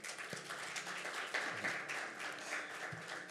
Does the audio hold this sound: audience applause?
yes